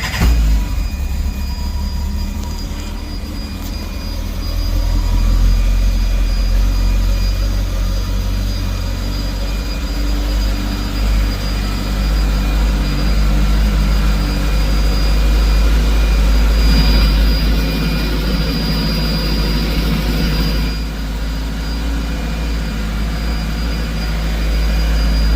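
A 2022 Campagna T-Rex RR idling while it warms up, giving a loud, steady, close engine drone with a deep rumble that holds unchanged for the whole stretch, with no voices.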